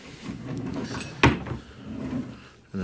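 A drawer in a hotel room slides open with a short scraping knock amid quiet room noise, followed later by another soft bump.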